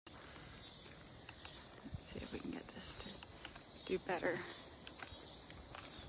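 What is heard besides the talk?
cicadas chirping in the background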